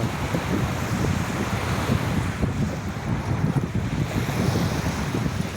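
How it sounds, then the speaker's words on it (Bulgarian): Waves wash steadily against the shore with a continuous roar, mixed with gusty wind buffeting the microphone; no voices. "Нека помълчим и да послушаме морето"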